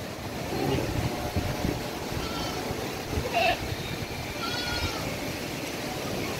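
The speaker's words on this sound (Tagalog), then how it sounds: "nagpapakain na kami ng feeds ng kambing namin" Goats bleat a few times while being fed, amid loud, rough wind noise and rustling outdoors.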